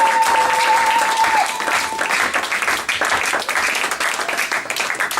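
A church congregation at BCC Bethanie applauds and cheers in praise. Loud, dense clapping and crowd noise continue without a break, with a brief sustained tone near the start.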